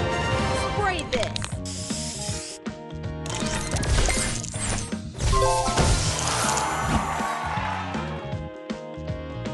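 A spray booster effect in a fast puzzle video game, where hissing spray bursts mix with clicking, ratcheting mechanical effects over loud continuous game music.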